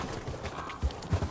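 Horse hooves clip-clop in Red Dead Redemption 2, a few soft thudding steps followed by two heavier strikes as the horse Titan moves along, with a faint whinny in the mix.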